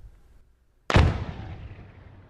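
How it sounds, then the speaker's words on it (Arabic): A single sudden blast at a Bahrain Defence Force military display, loud and sharp at onset, then a long decaying rumble that fades out over about a second and a half. "تفجير تفجير تفجير"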